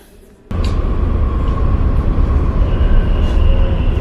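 A Munich U-Bahn metro train bursts into a loud, steady rumbling roar with rattling and a faint whine, heard close from the platform or carriage and continuing without a break.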